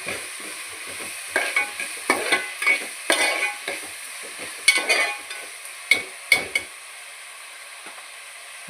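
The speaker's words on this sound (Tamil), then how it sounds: "வெங்காயம் நல்லா வதங்கட்டும்." Onions sauté in a pan for fish curry, with a low sizzle and a string of distinct spatula scrapes and taps on the pan, close and clear, easing off toward the end with no talk.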